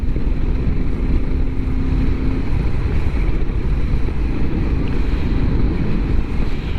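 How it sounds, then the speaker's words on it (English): Heavy, constant wind buffeting a microphone while riding a Royal Enfield Meteor 350 motorcycle in freezing weather, a loud low rumbling roar throughout with a faint engine tone underneath. "Now in theory, the slower you go, the less the wind hits you."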